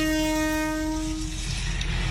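A loud train horn blares with a steady harmonic tone, then fades into the heavy rumble and roar of a train passing close by.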